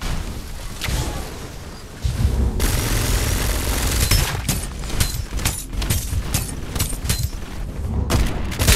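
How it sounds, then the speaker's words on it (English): Artillery fire in the video game Farlight 84: a dense barrage of booming blasts and rapid shots, loud and continuous, swelling from about two seconds in with repeated heavy impacts to the end. "Time for some artillery."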